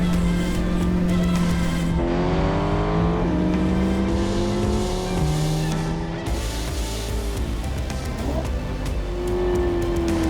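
A mid-engine Chevrolet C8 Corvette and a front-wheel-drive Honda Civic Type R FL5 race side by side, loud engines rising through gears with clear upshift drops, sustained close roar throughout.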